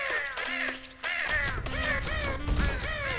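Crow cawing in the game Garry's Mod, a run of loud harsh repeated caws with rising and falling pitch, close and dominant over faint background noise.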